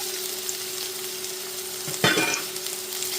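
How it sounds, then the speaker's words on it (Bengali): Onion, garlic and spices stirred in a pan for chicken curry, a faint steady low frying hiss with one brief louder scrape of stirring near the middle. "একটু নাড়াচাড়া করে হালকা ভেজে নেব পেঁয়াজ রসুন আর মশলাগুলি"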